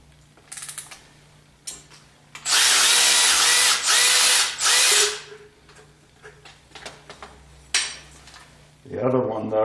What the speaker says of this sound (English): So it looks like I can probably get one of these shields out of the way with the power ratchet.